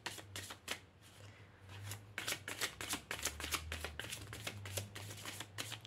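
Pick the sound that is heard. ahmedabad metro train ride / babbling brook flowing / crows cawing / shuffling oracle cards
shuffling oracle cards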